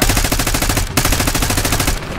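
Rapid automatic gunfire in Black Ops 6: a loud, dense stream of shots, a split-second break just under a second in, then another sustained burst that cuts off near the end.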